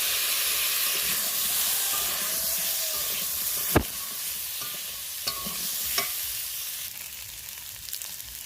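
Potatoes fry in a small amount of oil in a pan, a steady soft sizzle with a few sharp stirring clicks and knocks, close and alone with no talking.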